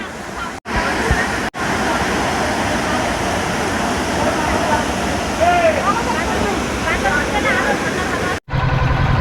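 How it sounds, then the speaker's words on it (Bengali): A small waterfall at Shubhalong in Rangamati pours strongly with a loud, steady roar of rushing water that drops out briefly a few times, and a voice is heard faintly over it. "এই ছোট শিবলং ঝর্ণার পানি কিন্তু অনেক স্রোত অনেক পানি পড়ছে"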